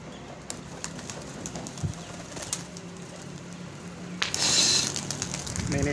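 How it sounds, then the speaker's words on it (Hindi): A flock of about fifteen pigeons takes off from a rooftop loft, with scattered soft flaps, then a loud burst of wing beats close by; faint voices are in the background. "मैंने इनको उड़ाया कबूतरों को।"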